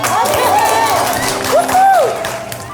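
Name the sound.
audience applause and cheering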